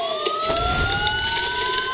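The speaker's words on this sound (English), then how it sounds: "Sirens. The police." Police sirens in the video game Batman Arkham Asylum wail loudly and continuously, with the pitch slowly rising and overlapping over a low rumble.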